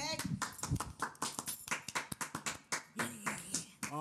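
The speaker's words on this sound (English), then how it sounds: "round of applause to me, pat on the back." A small group claps irregularly at close range for a few seconds, sharp slaps mixed with chatter and laughter from people talking over it.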